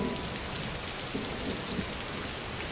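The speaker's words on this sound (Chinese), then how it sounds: "第二日，一早落好大雨。" Heavy rain falls in a dense, continuous roar of drops on surfaces. It is steady and loud throughout, with no voices.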